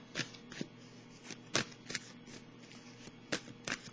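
Tarot cards are shuffled in quick riffling bursts, several short crisp flurries spaced irregularly, close and soft without talk.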